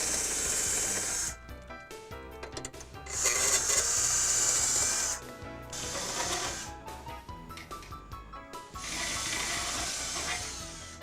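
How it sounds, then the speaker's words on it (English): A power drill whines in three separate bursts, each a few seconds long, with short pauses and some scraping between them. "Now we drill holes on each side."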